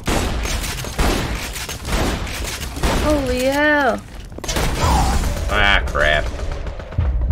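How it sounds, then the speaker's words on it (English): Rapid gunfire bursts from a Borderlands 2 co-op firefight, with a thudding boom, rattling under excited player chatter and exclamations, plus tonal game sound effects layered over the shooting. "Keep shooting him in the head."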